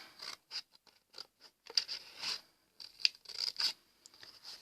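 Scissors snip through strong paper to cut out a Christmas tree tag shape, a series of short, crisp close-up cuts in irregular bursts with brief pauses between them.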